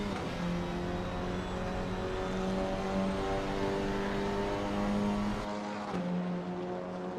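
RWB GT4 race cars run nose to tail at Snetterton, engines droning loud and close with layered overlapping tones, pitches shifting as they accelerate, then a brief dip near the end.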